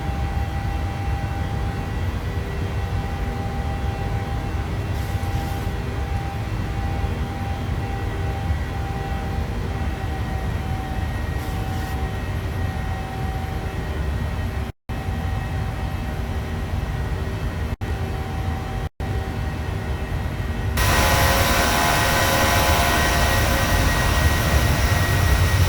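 Steady roaring jet engine drone with a constant tonal whine from a Boeing 737-700 taking off in Microsoft Flight Simulator 2020, continuous and unbroken, briefly cutting out twice before swelling slightly louder near the end.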